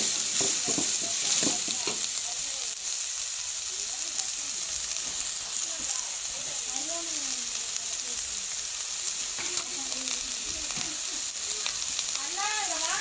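Chopped onion frying in oil with curry leaves and green chili for a goat blood stir-fry, a steady close sizzle with stirring scrapes throughout.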